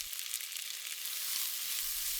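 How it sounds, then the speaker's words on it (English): Chicken searing in half a tablespoon of neutral oil in a hot pan, a steady close sizzle and fry hiss throughout with a few soft clicks, no voices. "Use half a tablespoon of neutral oil and sear that chicken in 2 batches."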